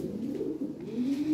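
Lahori pigeons at a pigeon market give low, soft cooing that hums continuously close by, with a faint rising note near the end and no talk.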